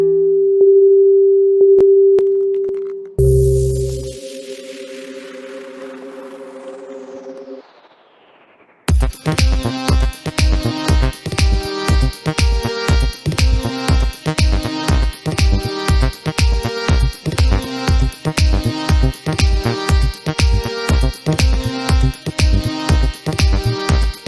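Music coded in Sonic Pi opens with sustained sine tones and a falling synth sweep, then moves into a steady pulsing electronic beat with layered synth notes, loud and continuous without speech.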